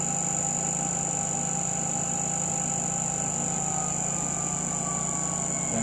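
A CEE Brewer Science 100 spin coater motor dropping to 3,000 RPM, a steady electric whine with a constant tone and hum, continuous and unchanging, close and moderately loud.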